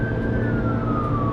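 A gliding emergency vehicle siren tone runs steadily across a short stretch, loud against constant road and engine rumble, with no voices present.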